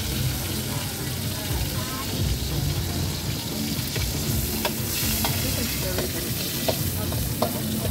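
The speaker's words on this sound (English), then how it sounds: "got all the shrimp, stir fry" Shrimp stir-fry at a Patong Beach night market stall in Phuket sizzles loudly and continuously over a busy hiss, with metal spatula clanks and scrapes tapping out an irregular rhythm and crowd chatter in the background.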